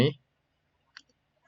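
A computer mouse gives a single soft, sharp click with a faint tick after it, heard in near silence right after a brief burst of a voice.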